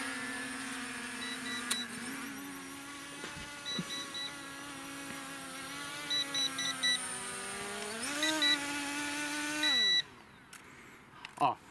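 ZD012 GPS drone flying and returning home on its own: a steady, faint motor whine that shifts in pitch as it manoeuvres, with short electronic beeps over it, before the motors cut out near the end.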